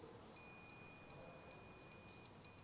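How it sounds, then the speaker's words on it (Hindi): A multimeter in continuity mode sounds a steady high electronic beep as its probe touches bare metal while checking a car starting-circuit wire; the tone holds for about two seconds, drops out briefly, then returns, close and clear over faint background hiss. "अब अगर कंटिन्यूटी होगी तो ये बीप करेगा"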